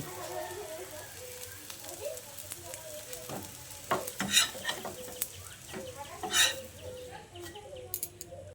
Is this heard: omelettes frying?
yes